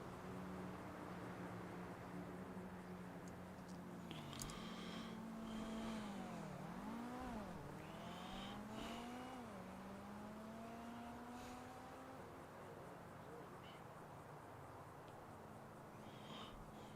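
A red Porsche driving past in GTA 5, its engine pitch rising and dipping as it revs and passes, fairly faint over steady background noise with no talking.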